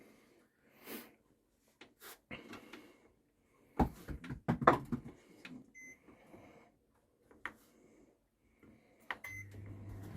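An electric oven running on a 2 kW inverter with battery storage is switched on to preheat: scattered clicks and handling knocks, a cluster of louder bumps, then short electronic beeps, with quiet gaps between.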